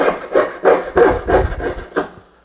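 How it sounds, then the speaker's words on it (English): A hand coping saw cuts through wood on the pull stroke, making about six loud, close, rhythmic rasping strokes that stop with a brief tail. "Coping saws are, are made to cut with the teeth toward you, so they cut on the pull."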